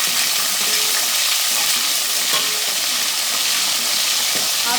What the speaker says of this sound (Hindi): अब हम इसमें हमारे अदरक लहसुन शामिल कर रहे हैं।